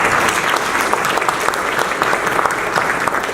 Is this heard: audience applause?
yes